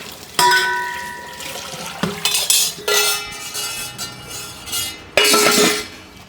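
Dishes and pots being washed by hand give loud clattering clanks of metal pots and utensils, ringing knocks and splashing water in uneven bursts, close up and without talk.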